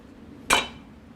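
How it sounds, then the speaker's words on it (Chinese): A single knife cut scoring a whole chicken on a board before marinating, one brief sharp knock with a bright clink, close and alone against a quiet room. "洗好了，我们来给它改个花刀，每面划2下，方便入味儿。"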